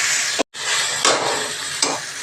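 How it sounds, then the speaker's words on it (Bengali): Spices sizzling with turmeric in hot oil in a pan: a loud, close, continuous hiss broken by one brief gap and a couple of stirring bursts. "এই মশলাগুলোকে একটু ভালো করে ভেজে নেবে।"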